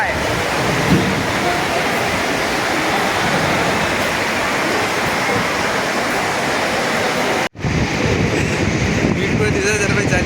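A Kolkata metro train runs at Dakshineswar with a loud, continuous rushing roar that holds steady and then cuts off briefly before resuming. Some voices may be faintly present under the noise.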